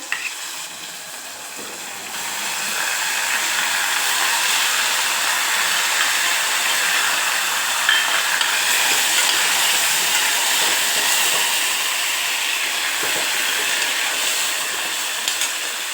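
Washed moong dal tipped into a hot pan of oil with curry leaves and asafoetida, sizzling loudly and steadily, a dense crackling hiss that swells after the first couple of seconds and holds with no talk.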